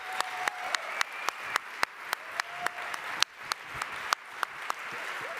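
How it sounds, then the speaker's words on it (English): Sparse, fairly slow applause from an audience at an award ceremony evening reception, with distinct separate claps in an even rhythm, moderately loud and close, with no talking over it. "Let's have another big round of applause for this wonderful living warm artistic performance from Marania."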